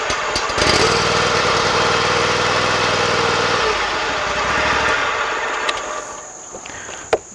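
Hustler Raptor X zero-turn mower engine, set at half throttle with the choke out, catches quickly and runs with a loud steady drone for a few seconds, then settles lower as insects chirp in the background.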